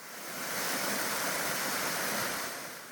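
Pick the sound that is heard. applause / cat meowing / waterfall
waterfall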